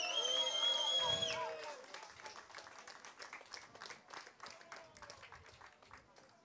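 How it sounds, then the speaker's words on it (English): A crowd at a ROK Cup Euro karting event in Wackersdorf gives moderate, steady applause for Mini category drivers, rising after a brief musical sting and continuing under an announcer's voice. "one last big applause for the Mini"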